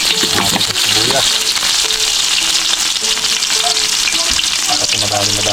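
Onions frying in a pan for a curry and coconut-milk adobo, giving a loud, dense, continuous sizzle close up, with voices talking underneath.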